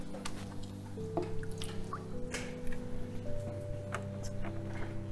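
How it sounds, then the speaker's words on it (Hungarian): Water being poured into a humidifier to fill it, a steady trickle with small drips and splashes over a constant low electrical hum, close by and without speech. "Ezt most gyorsan föl is töltöm egy kis vízzel."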